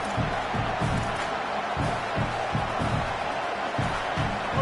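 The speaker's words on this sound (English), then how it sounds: "Man, this crowd really affecting the football game." Stadium crowd in an NCAA college football video game roars as a constant loud wash, with rhythmic low chant-like thumps pulsing underneath at a steady beat.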